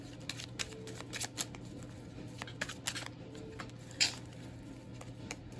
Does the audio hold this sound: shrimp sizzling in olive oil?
no